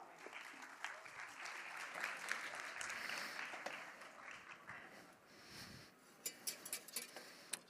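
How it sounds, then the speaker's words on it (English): Steady applause from an audience welcoming a chef at a food science event, fairly quiet and continuous, thinning into a few scattered individual claps near the end. "a big round of applause for Chef Christophe Devoile."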